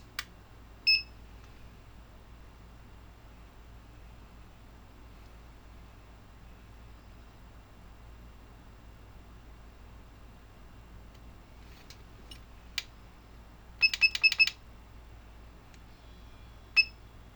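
An RF4 RF-H2 hot air rework station sounds its alarm: a quick cluster of sharp electronic beeps near the end, preceded by a couple of isolated beeps, over a quiet hum in a workshop.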